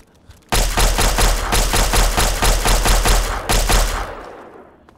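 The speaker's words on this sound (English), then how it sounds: "feral ghouls are way easier to take out with laser pistols." Laser pistol fire in the PC game Fallout 3 against feral ghouls comes as a rapid, loud burst of repeated zapping shots for roughly four seconds, with a brief gap before trailing off.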